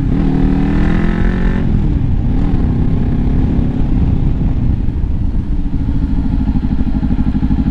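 Motorcycle ridden fast in fifth gear, engine droning loudly before the rider brakes hard for a stop sign; pitch drops sharply, then settles into a rough idling rumble close by, without talk.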